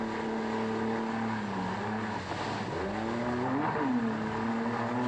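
A steady jet boat engine drone with wavering, warbling pitch that dips and surges as it cavitates on a river, heard at moderate distance.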